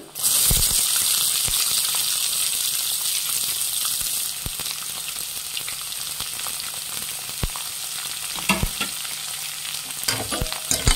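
Chopped onions fry in hot oil with peanuts and chana dal, making a loud, bright sizzle that eases slightly partway through, with stirring scrapes and clicks near the end.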